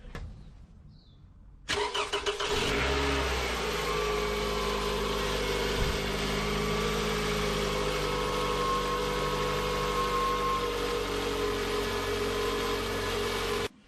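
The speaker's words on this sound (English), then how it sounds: "you need to start the engine to make sure that everything works fine" After a quiet start, a car engine with newly changed spark plugs cranks and catches, then settles into a steady, close idle that drones evenly to the end.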